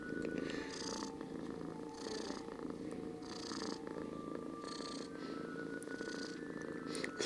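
A pet cat purring up close, a steady low rumbling purr with rhythmic rises on each breath, continuous for several seconds with no talking.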